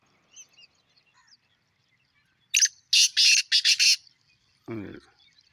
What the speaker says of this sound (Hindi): इस सीज़न में पहली दफ़ा मैंने आपस में जोड़े हैं तीतर